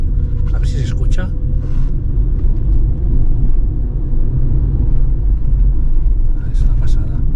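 A 28-year-old Ford Mondeo Ghia V6 24v estate runs with a deep, steady engine rumble heard from inside the car, and someone talks briefly over it now and then.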